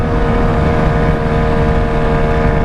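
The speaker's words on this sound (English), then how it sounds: "it's getting up there, like it sounds like high RPMs, and I'm at 45." Honda Ruckus scooter engine at high revs, a steady loud drone holding a constant pitch throughout with no voices.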